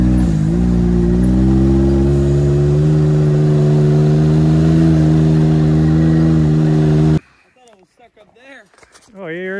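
Ford EcoBoost pickup engine droning loud and steady while towing a heavy Chevrolet diesel truck, a low humming rev that cuts off abruptly, followed by talking.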